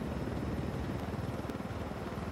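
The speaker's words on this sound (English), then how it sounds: "Although this is a cartel helicopter," A cartel helicopter flies nearby in a video game, its rotor giving a loud, continuous, rapidly pulsing thrum that stays constant throughout.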